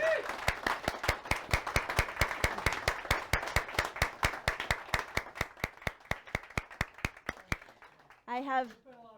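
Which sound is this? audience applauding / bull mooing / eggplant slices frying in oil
audience applauding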